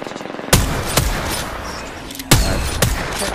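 Gunfire in the video game Apex Legends: a dense stream of shots with several sharp louder cracks standing out over continuous rattling fire, no talking.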